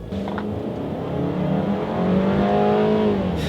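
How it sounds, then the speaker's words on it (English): A 2017 Volkswagen Tiguan small SUV pulling away from a standstill, its engine droning and rising steadily in pitch as it gains speed, heard from inside without talk. "let me do a quick little acceleration here from a standstill"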